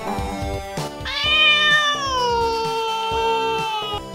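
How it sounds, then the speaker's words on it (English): A cat meows in a long, drawn-out call over a bouncy musical backing with steady beats. "This is the cat."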